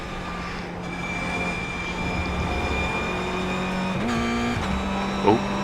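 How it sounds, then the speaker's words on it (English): Sustained engine drone of a production race car in iRacing at Lime Rock Park, with a brief pitch jump as the car accidentally downshifts, then settles back; steady, close, no talk. "Accidental downshift there, luckily it didn't blow any engine."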